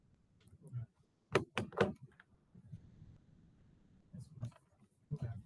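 A classroom door is handled in several quick knocks and clunks, opening with a couple of sharp bangs close by, while faint murmuring voices and shuffling carry on in the room.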